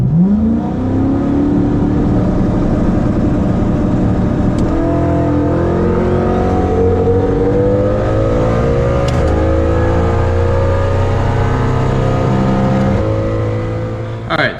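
Turbocharged Ford Coyote V8 car accelerating hard on a dyno during a quarter-mile simulation run, a loud continuous engine roar climbing steadily in pitch through the gears for nearly fifteen seconds, close and steady.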